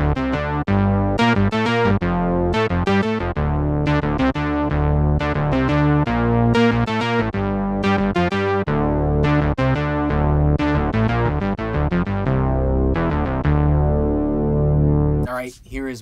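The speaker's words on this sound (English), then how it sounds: "Here's kind of a classic Moog sound, 3-octave bass using my poor man's Moog program." A classic Moog-style three-octave synth bass from the Soundpaint Polywax instrument, lightly compressed, plays a loud rhythmic riff of punchy repeated notes for the whole stretch with no talking.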